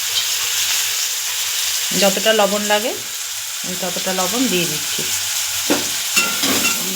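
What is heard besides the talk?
onions and fish frying and being stirred in a pan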